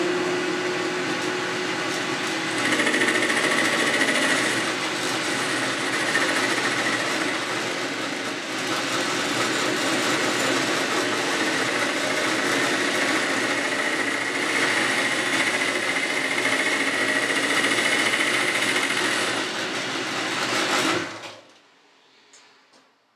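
A steady mechanical whir and grinding drone runs continuously from a lathe facing off the end of a steel shank held in a chuck, loud and close, then cuts off abruptly near the end.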